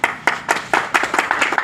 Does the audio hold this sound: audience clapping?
yes